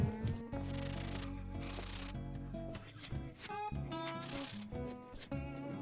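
Rubbing across the flat surface of a bar top arcade cabinet being built, steady scraping strokes with brief breaks, heard close over a sustained tonal background.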